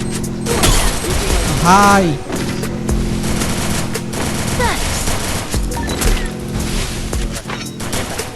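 Gunfire from both sides in a battle royale video game: loud, continuous rattling bursts of automatic fire with sharp cracks and a whooshing effect, close and relentless, under intermittent talk.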